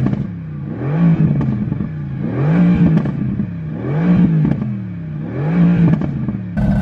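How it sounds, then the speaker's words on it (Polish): A sports car on its stock exhaust revs repeatedly, four rising and falling engine sweeps in a regular rhythm, loud and close with crackles between the pulls and no talk. "I to jest seryjny wydech."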